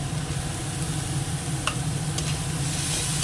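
Ginger and garlic paste sizzles steadily in a pan while being stirred, with a couple of faint scraping clicks partway through; no one speaks.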